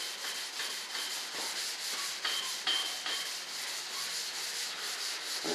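Filler on a scale model F-105 Thunderchief RC jet is sanded by hand in close, steady back-and-forth strokes with a soft rhythmic scratch and no talk.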